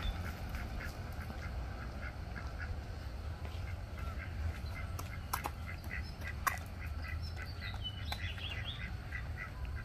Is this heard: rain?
no